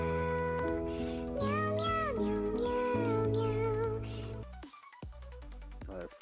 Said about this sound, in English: It's our only cat.